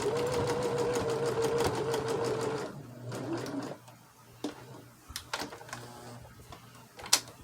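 A domestic sewing machine stitching quilt blocks runs steadily and loudly for almost three seconds, then stops, leaving a quiet room with soft handling clicks and a sharp knock near the end.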